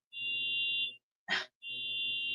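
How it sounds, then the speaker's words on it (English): A neighbor's alarm goes off outside a house, sounding as two long, steady electronic tones separated by a short burst of harsh noise, fairly loud and with no voices. "Somebody's alarm is going off outside my house."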